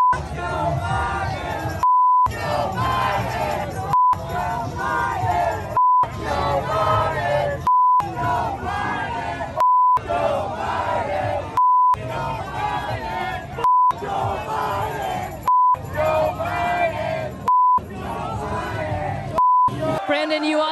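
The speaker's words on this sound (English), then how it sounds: "you can hear the chants from the crowd. Let's go, Brandon." A large crowd chants a rhythmic political slogan over and over, loud and close. Regular short censor beeps cut through the chanting between phrases.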